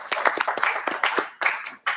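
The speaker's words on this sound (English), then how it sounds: "I want to give Joel a round of applause" Scattered clapping in a state House Transportation Committee hearing room to honor a colleague, a small group of hands producing irregular, distinct claps over two seconds with brief gaps between bursts.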